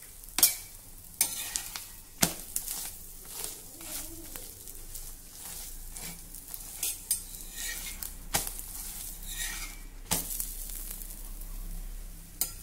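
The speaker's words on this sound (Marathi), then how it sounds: "उरलेले पराठे देखील याच प्रकारे मी भाजून घेते आहे।" Paratha topped with coriander roasts on a pan, giving a soft, steady sizzle broken by repeated sharp clinks and scrapes of a utensil against the pan, fairly quiet and close, without speech.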